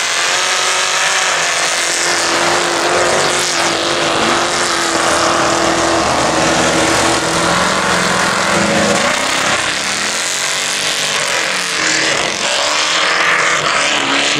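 Small-tire off-road race vehicles launch from the start of a winter challenge race, a loud roaring mass of engines with rising and falling revs and passing surges throughout.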